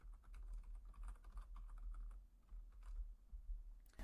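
Typing on a computer keyboard while writing PHP extension code, a steady stream of fast, light key taps, close and fairly quiet over a low background rumble.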